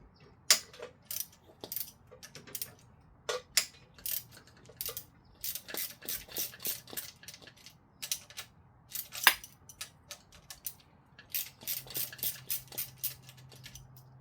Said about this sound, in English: Take the forks off by these 2 bolts here.